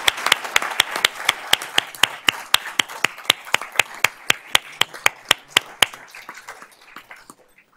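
Clapping at a school Board of Trustees honors meeting, a quick, very even run of sharp claps from a small audience that stays steady for about six seconds, then thins out and fades.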